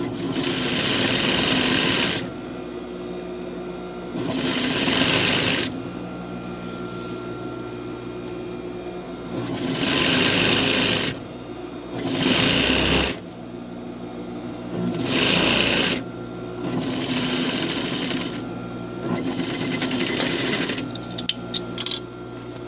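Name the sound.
sewing machine stitching a skirt seam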